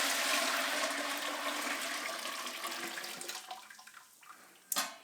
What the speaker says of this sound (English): So I'm gonna actually put this hot boiling water